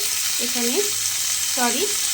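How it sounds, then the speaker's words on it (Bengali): Whole cumin seeds, a tempering for a prawn dish, sizzle in hot oil with a continuous bright crackling hiss while a voice speaks briefly twice over it. "গোটা জিরে ফোড়ন দিয়ে ফোড়নটাকে একটু সময় ভেজে নিতে হবে।"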